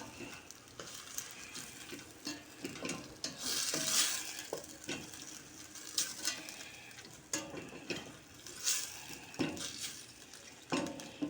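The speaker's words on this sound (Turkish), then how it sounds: "Biz kavurmaya devam arkadaşlar. 5 dakika kavuruyoruz arkadaşlar. Baklanın lezzeti karışsın. Soğanlarla birbirine" Broad beans and onions sauté in a pan with a sprinkle of sugar, a steady sizzle broken by repeated scraping stirs of a utensil against the pan, close and clear with no talking.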